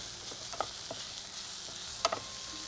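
Bitter gourd sautés quietly in a pan with fenugreek seeds, a faint low sizzle with a few soft utensil taps and scrapes scattered across it.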